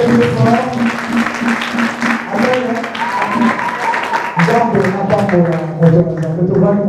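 A church congregation clapping steadily while many voices call out and sing loudly over the applause, with the crowd noise filling the space throughout.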